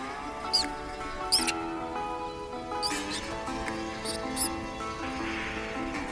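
Arctic ground squirrels emerging in spring in Alaska give several short, sharp high chirping calls in separate bursts against a faint continuous backdrop, with no voices.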